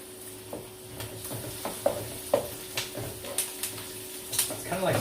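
Eggs scrambling in oil with onions in a pan for fried rice, a soft steady sizzle broken by about a dozen sharp clicks and scrapes of stirring, with a faint electrical hum underneath.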